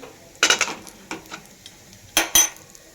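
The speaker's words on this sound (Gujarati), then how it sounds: "થોડી વાર આપણે ધીમો ગેસ રાખીને હલાવશું" Peanuts frying in oil in a pan get stirred over a low flame, with a few brisk scraping spoon strokes and metallic clinks against a faint sizzle, close up and with no voices.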